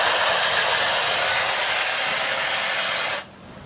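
Compressed air rushes out of a truck's air supply tank in a loud, steady hiss that cuts off abruptly near the end.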